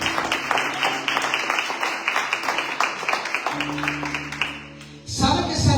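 Church congregation applauding strongly, a dense steady wash of many hands clapping for about five seconds, then fading into a quieter, more mixed crowd noise at the end.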